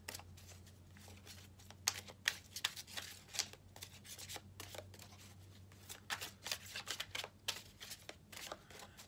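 Tarot cards being shuffled and pulled for a love reading, close soft riffling and sliding in irregular bursts over a low steady hum, with no talking.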